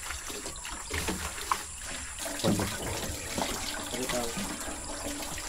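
Water splashes and trickles while freshly harvested eggplants are washed outdoors on a rural farm, with people talking over the running water.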